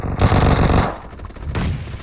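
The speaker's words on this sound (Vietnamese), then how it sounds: "Vòng qua đây có tiếng súng bắn vào đây người ơi." Loud automatic gunfire bursts out in the mobile battle-royale game PUBG Mobile: a dense rapid volley for most of a second, then quieter pops and a second, shorter burst, with no talk over it.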